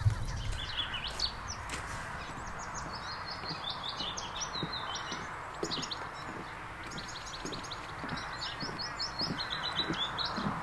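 Garden birds chirping outdoors, a stream of bright, quick tweets and short calls scattered throughout, fairly close and lively over a soft background hiss, with no talk.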